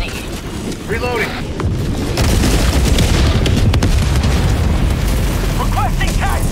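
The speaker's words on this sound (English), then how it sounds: "I'm gonna call an airstrike close here" An airstrike in the shooter Helldivers 2 lands with a heavy, rumbling explosion that swells after a couple of seconds and roars on loudly, with brief game chirps at the start and end.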